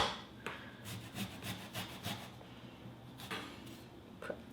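Food rubbed back and forth on a handheld grater in a home kitchen while preparing a spicy chicken bulgogi marinade, a series of rhythmic rasping strokes up close with no talking.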